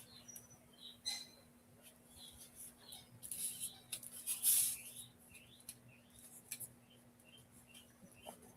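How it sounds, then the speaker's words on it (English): Mockingbirds chirp outdoors on a quiet afternoon, a series of faint, short, high tweets and warbles scattered at a moderate distance over a steady low hum. "We have a lot of mockingbirds here."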